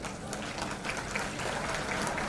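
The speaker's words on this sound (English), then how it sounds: "deserve a big round of applause from all of us" Audience applause for the Young Talent Council members at a student leadership event, an even, sustained patter of many hands clapping with a faint crowd murmur beneath.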